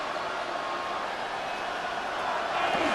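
Steady roar of a stadium crowd at fever pitch in a Madden NFL 26 simulation of Bengals vs. Steelers, a dense, continuous wash of noise swelling slightly toward the end, with no distinct cheers standing out.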